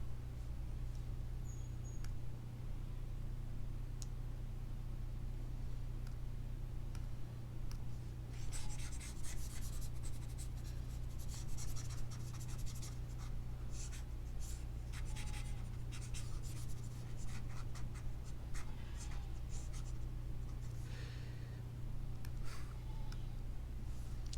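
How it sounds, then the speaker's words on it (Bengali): Chalk or a duster rubbing across a board to erase writing in a Bengali trigonometry lesson, a soft scratchy wiping in bursts over a steady low hum, no talking. "এটা ওপরেটা আমি মুছে দিচ্ছি"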